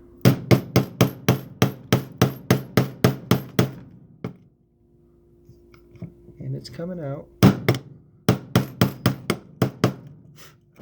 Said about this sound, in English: I've misplaced my hammer, so I'm using a crowbar.